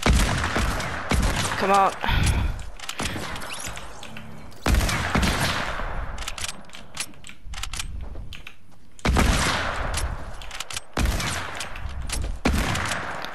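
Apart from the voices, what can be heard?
sniper rifle gunfire in Fortnite Battle Royale video game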